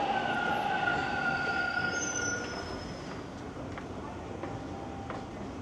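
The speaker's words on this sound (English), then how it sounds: "There's a eastbound train on line 2." An eastbound subway train on Toronto's Line 2 at Dundas West station rumbles steadily with high, drawn-out wheel squeals, loud and close before easing slightly, and a voice is briefly audible over it.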